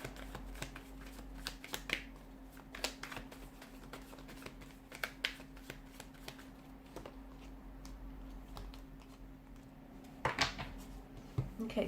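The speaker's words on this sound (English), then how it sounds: "I just want to pull a few more cards to crown the reading." Tarot cards being shuffled by hand in a quiet room, soft repeated riffling and slapping bursts spread across the whole stretch, faint and close.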